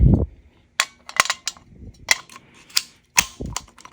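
The magazine release on a VZ61 Skorpion build is worked repeatedly, producing a run of sharp, close metallic clicks and snaps in irregular bursts.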